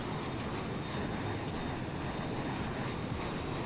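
Fokker F28 jet engines fitted with a hush kit, simulated in Microsoft Flight Simulator, give a steady, loud broadband roar that holds unchanged throughout with no talking.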